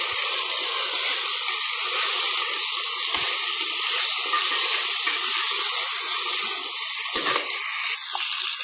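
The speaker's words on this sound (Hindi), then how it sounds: "हम इसमें शामिल करेंगे आधा चाय का चम्मच ही अदरक लहसुन का पेस्ट और फिर इसे 2 से 4 मिनट तक फ्राई कीजिए" Ginger garlic paste frying with cumin in hot oil, a steady broadband sizzle and hiss that runs unbroken and fairly loud throughout, with a couple of faint clinks near the end and no voices.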